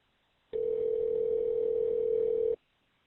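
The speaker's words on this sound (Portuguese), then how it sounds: "Agora ouvimos uma ligação para o 911 feita, supostamente, no endereço dos Tepe" A steady telephone tone opens a recorded 911 call, one loud unbroken mid-pitched beep lasting about two seconds that starts and stops abruptly against silence.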